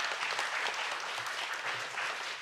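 Applause from the audience at a joint meeting of national safety emergency-response research projects, after nine project leads finished presenting; a soft, distant, even wash of many hands clapping with no voices over it.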